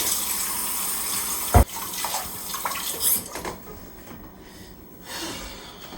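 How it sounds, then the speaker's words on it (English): Hands being washed under a running kitchen tap after shaping meatballs, a steady rush of water with a sharp knock near the start and some splashing changes before the flow softens and resumes. "we're going to come over and wash our hands really well"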